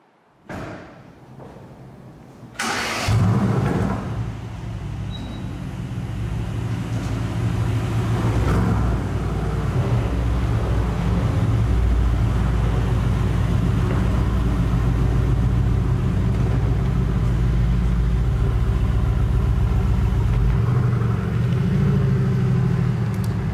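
A 2019 Mercedes-AMG GT-R Pro fires up with a sharp bark, then roars into a hard launch, its engine rumbling loud and steady as it pulls away.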